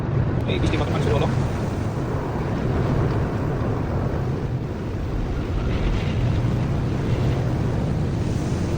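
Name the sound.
car wash water spraying on car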